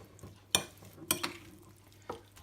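A spoon stirs olive oil and Guérande salt in a bowl, giving a few sharp, quiet clinks and scrapes that stand alone against faint background sizzling.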